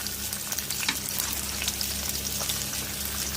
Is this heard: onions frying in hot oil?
yes